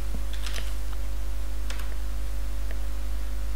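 Quick bursts of typing on a computer keyboard, light key clicks in short irregular runs over a steady low electrical hum.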